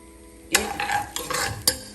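Chopped onions cooking in oil in a pot, stirred with a utensil: a quiet lead-in, then a run of scraping and sizzling bursts with sharp clinks near the start and end, with no voices.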